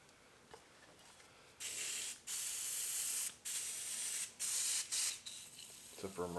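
WD-40 sprays onto a Case David Brown 1394 engine block in about six short, loud, hissing bursts at close range, separated by brief pauses, followed by a few clinks at the end.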